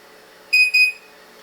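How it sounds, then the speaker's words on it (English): An Anycubic Cobra 3 3D printer powers back on with a short, clear double electronic beep, two quick tonal chirps in close succession over a faint background hum. "Now we can turn the printer back on."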